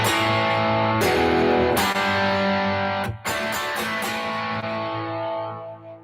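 Distorted electric guitar plays a rock riff, loud and upfront, with chords ringing out and then cut short by sharp stops and choppy rhythmic hits.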